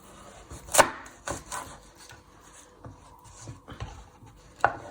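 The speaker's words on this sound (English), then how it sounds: "Now chop your other end off." A knife chops the end off an onion on a cutting board, giving a few sharp, separate cuts amid soft scraping and handling noises, close and fairly quiet.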